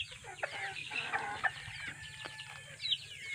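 Chickens waiting for feed cluck and chatter in short overlapping calls, moderately close and fairly quiet, with a low background hum.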